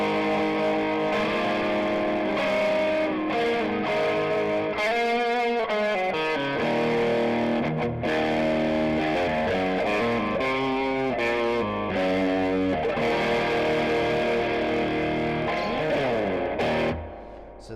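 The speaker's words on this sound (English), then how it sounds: "So that's going to be your overdrive." An electric guitar played through an overdrive effect rings out loud and continuous, sustained gritty chords and note runs blending in a thick, saturated tone with no pauses.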